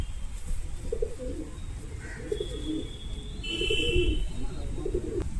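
Soft, low pigeon coos repeat in short phrases over a quiet outdoor background, with a few faint chirps higher up.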